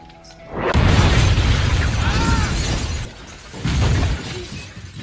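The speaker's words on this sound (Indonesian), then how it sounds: "Ketika ia sudah berada di luar, dapurnya meledak." A sudden loud kitchen explosion with shattering, crashing debris that rumbles on for several seconds, then a second burst of clatter near the end, from a Final Destination film.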